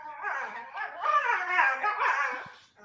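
Dogs wrestling in play give a close, continuous run of excited yips, whimpers and short barks that rise and fall for about three seconds, with no human voices.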